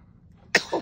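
A single sharp sneeze bursts out close by after a quiet moment, followed by a softer short exhale.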